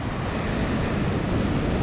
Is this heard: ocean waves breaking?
yes